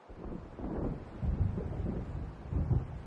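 Low, rolling rumbles of thunder from an approaching storm over open water in the video game Alan Wake, swelling in two or three heavy waves under a steady gusty wind.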